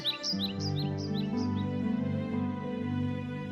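Several short, high chirps from an injured bird on the ground in the woods over a steady musical background, the tweets repeating quickly near the start and then fading.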